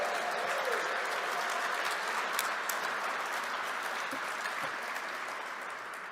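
Large indoor audience applauding and cheering at a FIFA World Cup 2026 opening celebration event, a dense steady roar of clapping that holds loud for several seconds and slowly eases.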